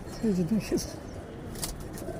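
A pigeon, a makra breed of racing pigeon, gives a few soft, low coos near the start, heard close under a voice speaking.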